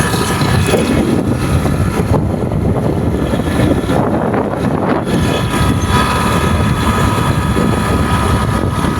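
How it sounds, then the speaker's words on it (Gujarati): A tractor engine runs nearby with a constant low, throbbing rumble, steady throughout with some wind buffeting the microphone. "જો આ ટ્રેક્ટર હાલે અહીંયા."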